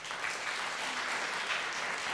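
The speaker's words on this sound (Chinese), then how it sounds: "我们掌声欢迎他上来" A crowd at a Sunday church service applauds to welcome a volunteer to the stage, a dense, steady roar of clapping that holds at full strength from start to finish with no talk over it.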